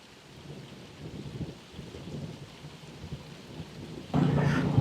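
Steady rain patters throughout at a garage in Nepal, swelling into a louder, denser downpour near the end.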